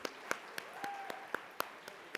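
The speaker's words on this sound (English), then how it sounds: "Big round of applause for Sandeep, please." Sparse, scattered hand claps from a small seminar audience on UAE corporate tax, about nine distinct claps spread across two seconds at moderate distance, with a faint steady tone in the background.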